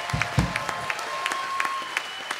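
A live audience applauds a band after a concert performance, steady clapping with a few louder early bursts, moderately distant and filling the room.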